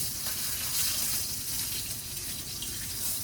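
A steak sizzles loudly in a pan just after its first flip, a dense, steady hiss of frying fat that stays close and unbroken for a few seconds.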